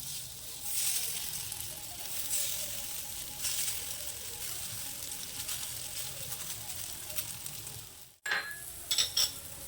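Egg-coated Maggi noodle fritters sizzle and bubble steadily in oil, a continuous frying hiss that cuts out briefly near the end before a few light clinks.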